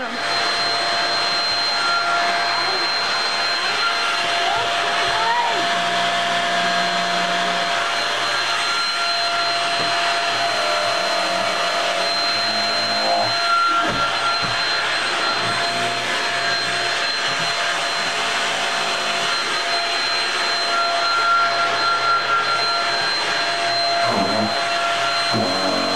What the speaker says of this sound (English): I'm gonna vacuum Adam.